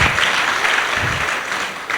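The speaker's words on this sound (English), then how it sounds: "A round of applause, please." Loud, close applause fills a hall as an audience at an interactive forum claps together in a brief, even burst.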